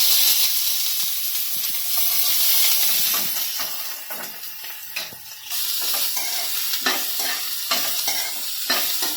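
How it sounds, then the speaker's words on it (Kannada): Onions frying in hot oil in a pan for sweet corn masala, a loud, close, continuous sizzle and hiss with repeated stirring scrapes throughout, no talk. "ಈಗ ಎಣ್ಣೆ ಬಿಸಿ ಆಗೈತ್ರಿ. ಅದ್ರೊಳಗೆ ಫಸ್ಟ್ ಈರುಳ್ಳಿನ ಹಾಕ್ತೀನಿ."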